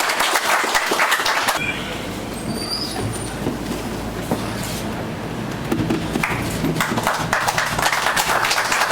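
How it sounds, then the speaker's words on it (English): Scattered clapping breaks out at the immigration office in Labasa, Fiji, as the first locally printed passport is issued. Sharp bursts come at the start and again later over a constant mechanical rumble of the room. "Please give a round of applause."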